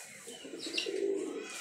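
Pigeons coo softly in low, throaty murmurs, with a few faint higher chirps in the background.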